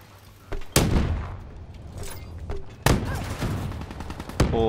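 Gunshots ring out in a shooting video game: two loud, sharp blasts with echoing tails a couple of seconds apart, then a third, quieter crack near the end over a low background.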